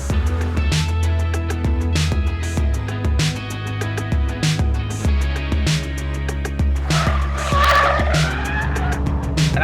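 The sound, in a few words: Alfa Romeo car sliding, tires squealing at speed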